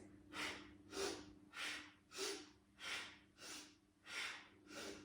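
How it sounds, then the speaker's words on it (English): Eight short, sharp yoga breathing exhalations, each a forceful breathy puff through the nose or mouth, repeated at a steady rhythm of roughly one every two-thirds of a second. Close and fairly quiet, with no talking. "I want you to breathe really short and sharp."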